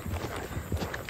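A young horse's hooves clip-clop close by in a quick, uneven rhythm of several soft thuds over about a second.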